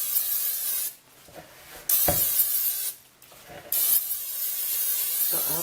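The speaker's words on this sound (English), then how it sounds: "I'm just going to spray it with Pam" Pam cooking spray hisses from an aerosol can onto a slanted-sided bowl mold in three close, sustained bursts separated by brief pauses.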